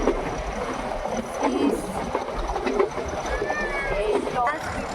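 The Ooty toy train pulls away from the railway station, a low rumbling run with rattling wagons and faint squeals, heard from on board at moderate loudness with voices in the background.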